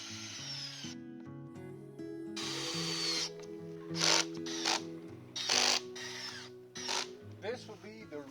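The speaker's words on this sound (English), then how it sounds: "First I need to pre-drill the holes into the top so that I don't get any cracks in the wood." A power drill pre-drills holes into a wooden roof panel in several short whirring bursts that rise and fall as the trigger is squeezed, with quiet pauses between them.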